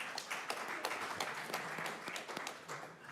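An audience at a school district board of education meeting claps in scattered, uneven bursts for about three seconds, moderately close and fading slightly at the end.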